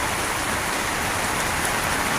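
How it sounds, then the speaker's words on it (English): Steady rain falls in a homestead garden, a dense, even hiss of drops on surfaces that is close and fairly loud throughout, with no speech. "It's raining and it's so beautiful out here."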